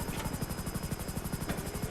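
Attack helicopter flying in GTA Online, its rotor pulsing in a steady, rapid thump with a constant turbine whine, heard alone at moderate level.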